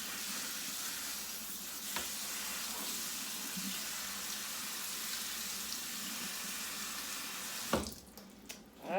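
Quinoa rinsed under a running kitchen tap, a steady hiss of water streaming into a sink for several seconds, then a louder splashing burst near the end.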